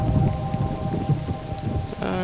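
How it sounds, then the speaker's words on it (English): Heavy rain with low rumbling thunder from the horror game Shiver 2: Poltergeist, a steady loud downpour throughout, broken near the end by a brief tonal game sound. "Cool, creepy rain and thunder."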